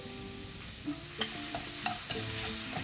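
Shiitake mushrooms and vegetables stir-fried in a pan for Korean japchae, with a steady sizzle and repeated scraping and clinking of a utensil against the pan at close range, no voices.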